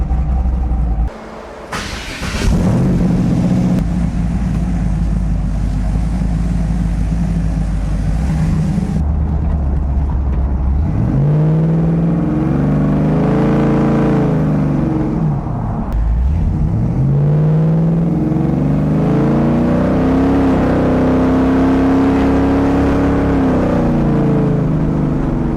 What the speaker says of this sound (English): Doesn't sound like an open exhaust anymore. Has a much deeper note.